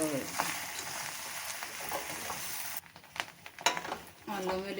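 Ginger garlic paste frying in a pan, a crackling sizzle with spoon scrapes and a brief pause mid-way, while a person talks over it.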